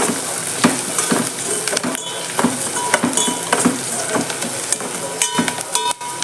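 Sliced onions sauté in oil with mustard seeds in a pan for a brinjal and drumstick kurma, giving a steady bright sizzle with frequent scraping stir strokes throughout.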